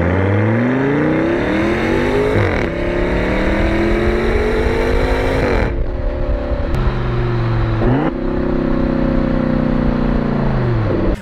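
Audi RS6 with a V10 engine and aftermarket exhaust, revving hard in loud sustained pulls. The engine pitch climbs through several gear-like steps, drops sharply between pulls, then climbs again, with no talking.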